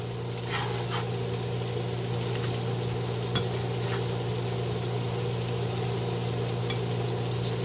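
Sausage with peppers and onions frying in a pan, a steady, even sizzle throughout with occasional small pops and crackles, fairly close and without talk.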